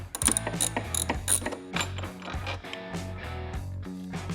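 A ratchet clicks in quick bursts while backing out T25 Torx screws from a Harley-Davidson Low Rider ST fairing, close and crisp with short pauses between runs of pawl clicks.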